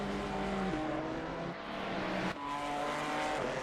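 An Alpine race car laps Zandvoort in a racing video game with a steady, high engine whine. It drops through gear shifts, and the pitch climbs and falls as the car accelerates and brakes, with no one talking.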